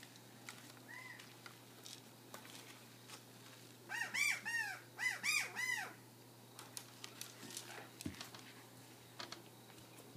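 Birds call outdoors in a quiet setting, with a cluster of clear, repeated chirping calls in the middle, a few fainter calls around them, and a low steady hum underneath.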